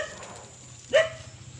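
A pet dog gives a single short bark or yip at close range, standing out once against low background noise.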